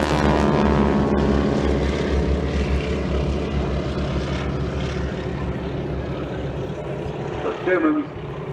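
A propeller aircraft flies at the Farnborough Airshow during a wing walkers display, its loud droning engine roar steady and near throughout, with an announcer's voice heard over it.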